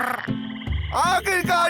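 Cartoonish croaks in short bursts, close and loud, with a squeaky voiced quality and a deep low rumble underneath.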